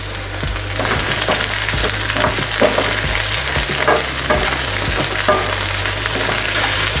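Ridge gourd peel fries in oil for chutney, a steady loud sizzle broken by repeated scraping and clattering of a spoon stirring in the pan.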